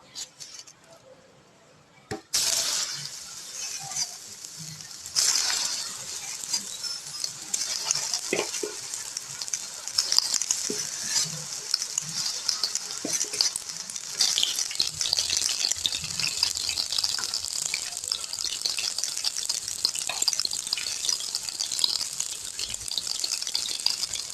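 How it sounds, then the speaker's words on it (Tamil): Soya chunks dropped into hot oil for a crispy fried snack, a steady close sizzle and bubbling that starts after a brief quiet moment and keeps going with small crackles throughout. "எண்ணெய் நல்லா காஞ்சிடுச்சு. இப்போ நம்ம சங்க்ஸை பொரிச்சு எடுத்துடலாம்."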